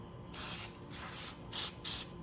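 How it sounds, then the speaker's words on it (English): A leather bag being restored gets misted by a spray bottle: four distinct hissing bursts, close and fairly loud, each lasting a fraction of a second with brief pauses between, no voices. "we're going to spray this one more time"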